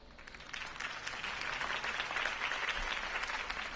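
Applause from a large crowd after Harvey Dent's campaign speech in a video game, a steady dense clapping that swells slightly and continues evenly throughout.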